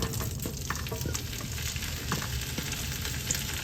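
Pork for sisig frying in a hot pan of oil previously used to fry pork belly skin, a loud continuous close sizzle with crackling pops running through, no talking.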